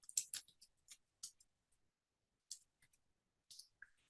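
A computer keyboard is typed on, producing scattered, faint clicks in irregular short clusters separated by quiet gaps.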